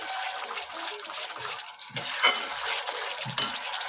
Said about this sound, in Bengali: এরকমভাবে আমরা মশলাটা খুব ভালো করে কষিয়ে নেব